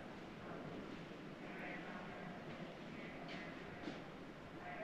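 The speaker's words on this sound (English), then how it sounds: "there's the train unloading happy travelers" A train standing at the Winslow, Arizona station beside the La Posada Hotel rumbles faintly in the distance, a low steady wash of rail noise with occasional soft squeaks and clanks.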